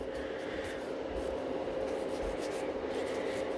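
Nail file rubbing along the free edge and corners of a fingernail in a salon, a close, continuous scratchy rasp of quick back-and-forth strokes.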